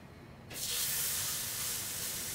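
Black pudding grills in a non-stick pan. A sudden, quiet, steady sizzling hiss starts after a brief moment of near silence and holds for the rest of the clip.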